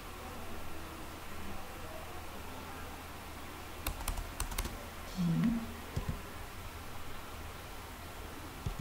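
A few quick, crisp keystrokes tap on a computer keyboard in a short cluster midway through an otherwise quiet stretch with faint background hiss.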